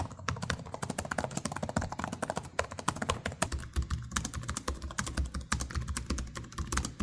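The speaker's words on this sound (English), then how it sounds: "Now here's how the keys sound." Fast, continuous typing on the keyboard of an HP Omen Transcend 14 gaming laptop, a quick stream of crisp, clicky keystrokes close up, with no one speaking over it.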